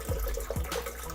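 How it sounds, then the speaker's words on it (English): One can of coconut water being poured into a blender for a morning smoothie, a steady close liquid splash and glug with a couple of gulping pulses. "So I'm going to throw the coconut water in."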